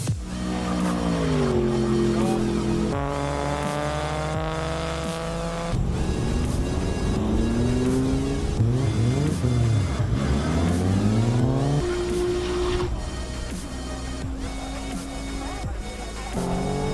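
Aussie muscle car, built for speed and running a Haltech Elite 2500 at a RaceWars track event in Albany, revs hard and close by, its engine pitch climbing and falling in repeated loud pulls.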